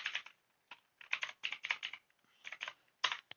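Fingers type an IP address on a computer keyboard in quick bursts of close, crisp keystrokes separated by short pauses, with no voices.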